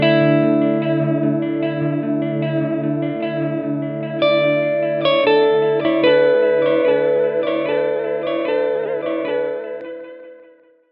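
Strymon Volante echo pedal at low speed, repeating sustained guitar notes into layered, slowly smeared delays that build and then fade away at the end, with no talking.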